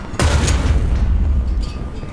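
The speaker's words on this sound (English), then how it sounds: "Let's try to drop 2 bombs close together there." A bomb explosion in the War Thunder tank battle game hits as one sudden, loud, close boom, then rolls on as a long, low rumble that slowly fades.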